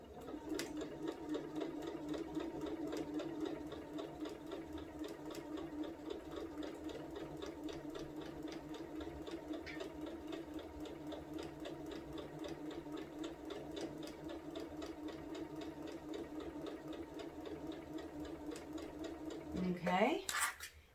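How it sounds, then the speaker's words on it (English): A sewing machine stitches a quilted placemat in one long, even run of close, steady mechanical hum, ending with a brief rustle of fabric. "Get it up underneath and get that part sewn."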